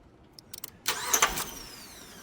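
Dodge Ram 1500 with a V8 Hemi that has been stalling while driving, heard close up as a couple of clicks and a brief crank, then the engine catching and settling into an idle.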